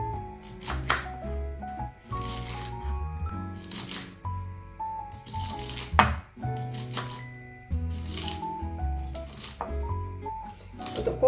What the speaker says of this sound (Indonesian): Saya potong terlebih dahulu kolnya ya, ini kebetulan sudah potongan. Saya potong kayak berupa mie ya.